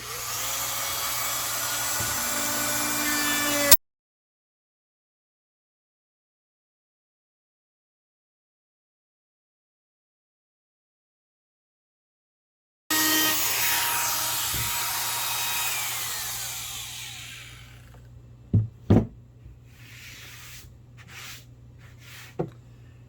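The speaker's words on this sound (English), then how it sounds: "we're going to do that using the handheld router to get a nice round edge on everything" A handheld router rounds over the edges of a wooden cornhole board, its steady loud whine running before and after a long silent gap, ending in a few sharp knocks.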